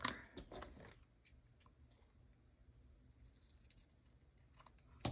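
Scissors snip through paper in a Happy Planner, a burst of quiet crisp cuts at the start and again at the end, with a hushed pause between.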